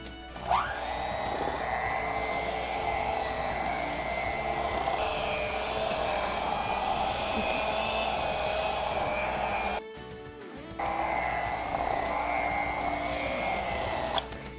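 A handheld electric mixer whips thick frosting in a steady loud whir, a continuous motor drone with a short break near the end before resuming.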